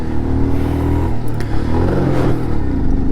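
Motorcycle engine straining uphill in first gear on the high-altitude road to Umling La, a loud, continuous labouring drone with rough clattering texture, close by and alone with no talk.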